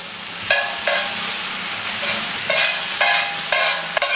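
Onion, cumin and capsicum fry in butter in a pan for pav bhaji: a loud, steady sizzle close by, broken every half second or so by brisk stirring scrapes, with no talking.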